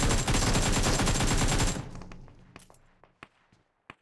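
Gunfire in the PUBG Mobile video game: a rapid burst of automatic shots rattles loudly for about two seconds, then gives way to a few scattered, fainter single shots and thuds.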